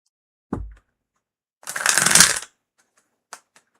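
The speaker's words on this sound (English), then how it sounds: "It just means it needs to be shuffled more." A deck of tarot cards being shuffled in one dense, riffling burst lasting under a second, with a soft card tap before it and a couple of faint clicks after, close and quiet, no talking.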